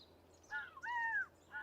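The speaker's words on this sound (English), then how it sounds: "Big flocks of blackbirds want to eat the corn." Blackbirds near a corn field give a few harsh, rasping calls in quick succession, faint and somewhat distant against quiet surroundings.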